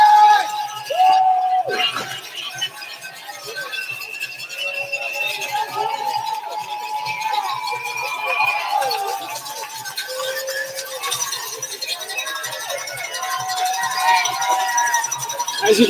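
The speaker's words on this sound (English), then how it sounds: "You hear them still? The cowbells are out." Spectators at the New York City Marathon ringing cowbells, a scattered clanking and clinking carried over the murmur of the roadside crowd, with voices mixed in.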